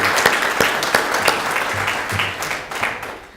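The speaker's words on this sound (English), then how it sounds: "So give yourselves a big round of applause." Members of Elks Lodge 270 at the New Albany lodge's 125th anniversary celebration give a round of applause, lively scattered claps with crisp individual hits over a low hum in the hall.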